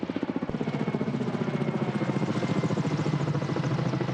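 A firefighting helicopter sent by the European Union to fight wildfires in Serbia thunders with a steady, rapid rotor chop, loud and continuous throughout, with a deep engine drone underneath.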